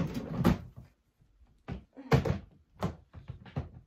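A drawer slides and knocks shut during furniture assembly in an art room, giving a few separate wooden thumps and scrapes with quiet gaps between them.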